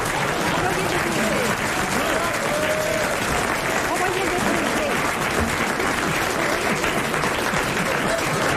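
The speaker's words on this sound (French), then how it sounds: "Il mérite qu'on l'applaudisse" Studio audience at a 1993 French TV game show applauds steadily and loudly throughout, a dense continuous wash of clapping with some crowd murmur beneath.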